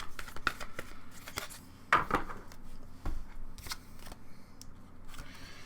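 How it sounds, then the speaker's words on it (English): Tarot cards are shuffled by hand in a series of crisp riffles and slaps, with sharp bursts separated by short pauses, close and clear in a quiet room. "Just gonna shuffle."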